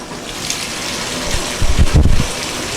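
A washing machine taking in hot water at the start of a long whites wash, a steady rushing gush with louder surging splashes toward the end, heard close and with no talk.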